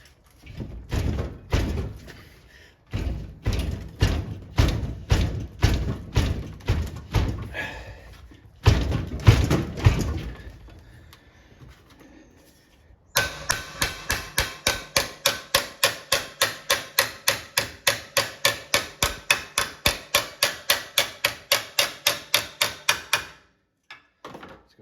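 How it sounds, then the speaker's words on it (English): Repeated hammer blows ring on the steel fender panel of a 1964 Chevy Impala, first in uneven bursts of heavy strikes, then a long fast steady run of sharp metallic hits. "I'm probably gonna have to hammer this."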